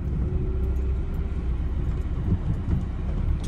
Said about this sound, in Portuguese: Acho que o carro estragou.